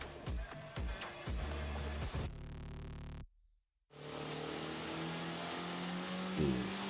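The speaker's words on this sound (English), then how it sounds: "we're running in the engine of our 23 Civic Type R on the dyno" A 2023 Honda Civic Type R engine runs hard on a dyno, with rising revs and abrupt shifts, then a brief cut to silence before the engine roars back at high, steady load, close and loud.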